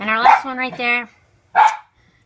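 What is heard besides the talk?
dog barking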